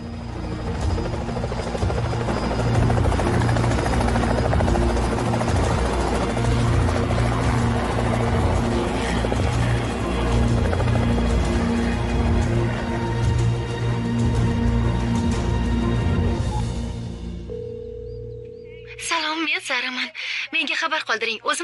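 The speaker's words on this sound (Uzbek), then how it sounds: "Vertolyot yo'lga chiqqanini senga aytib qo'yay degandim." A helicopter's rotor and engine drone steadily close by for most of the stretch, a dense throbbing roar that cuts off abruptly near the end, followed by a short tone and someone speaking.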